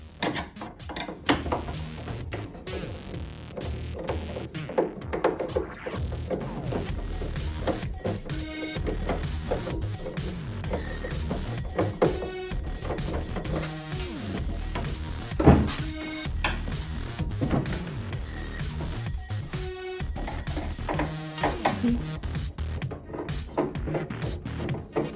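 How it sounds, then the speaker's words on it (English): A powered screwdriver removes the cover screws from a JAY-5 oxygen concentrator: a steady close whirring buzz with rhythmic mechanical clicking and ratcheting throughout, fairly loud, with no talk. "So we're going to unscrew them."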